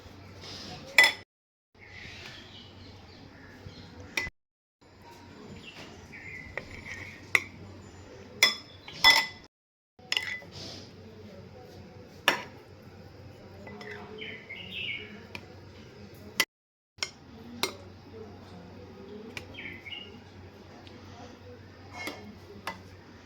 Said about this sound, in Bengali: যে প্লেটটার মধ্যে আমি সার্ভ করব সেই প্লেটে দই থেকে একটা একটা করে তুলে আমি দিয়ে দিচ্ছি প্লেটের মধ্যে